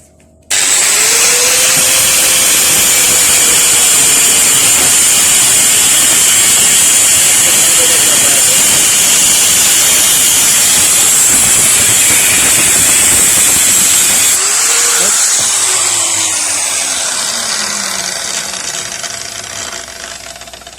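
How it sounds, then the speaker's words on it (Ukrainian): A loud, continuous high-pitched whine and hiss of an angle grinder cutting metal on a refrigerator compressor motor, running steadily for a long stretch before slowly tapering off. "Зараз роблю надріз. Болгарку я покажу як."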